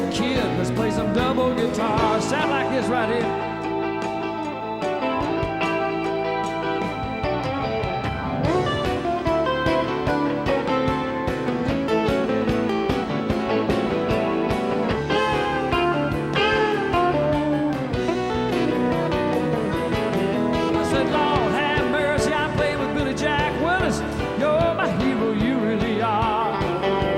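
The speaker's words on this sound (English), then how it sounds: "let's play some double guitar" Two guitars playing together in a busy, continuous stream of overlapping notes and strums, moderately loud and close, with no voices.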